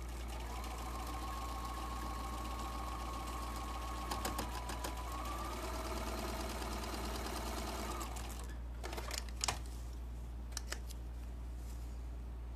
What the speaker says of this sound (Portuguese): e vou costurar de fora a fora